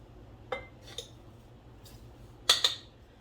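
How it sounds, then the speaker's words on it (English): Metal utensil clinking against a bowl while stirring yeast, sugar and salt for bread dough, a few light, sharp taps spaced out over a quiet room. "I'm going to go ahead and stir this up so that the yeast and the sugar can start proofing together"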